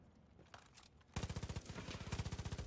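Machine gun fire in the video game Far Cry 5 starts abruptly after a quiet moment, then continues as a fast, steady, loud burst of evenly spaced shots.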